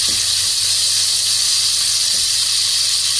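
Onion and tomato masala sizzles in a pan over a high flame while it is stirred, giving a loud, steady, even hiss that fills the whole span.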